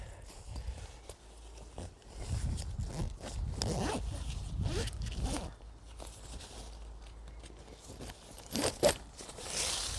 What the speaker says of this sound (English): It's just the zip being a little bit stiff, being the fact the fabric's new.